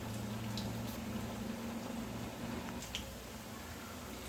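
Telangana-style pesara vada, green gram batter fritters, frying in hot oil over a low flame, with a constant close bubbling and fizzing and a low steady hum beneath it.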